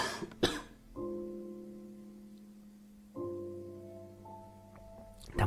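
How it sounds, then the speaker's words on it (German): A man coughs twice, a short burst near the start and another at the end, during a German Minecraft play session in the Nether, with steady game tones droning in between. "Da muss ich doch tatsächlich husten."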